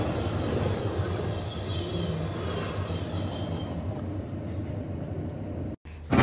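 Steady rumbling interior noise of a moving Indian passenger train near Mathura Junction, a continuous broadband roar with rattling, briefly cutting out near the end, with no talking.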